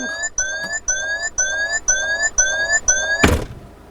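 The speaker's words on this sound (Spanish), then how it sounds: "las señales acústicas tan agradables que Peugeot ha puesto para que no se te olvide la puerta abierta" A 2017 Peugeot 5008 door-open warning chime repeats seven times in a steady rhythm of clear tonal beeps, then a heavy thunk like a door shutting ends it.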